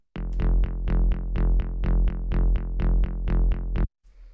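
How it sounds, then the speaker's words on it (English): A high tech minimal bass line, a sub bass and a main bass layered on the same notes, thumps out a steady run of about sixteen even, punchy plucked notes that cut off abruptly near the end. "The next sound we have here is the bass"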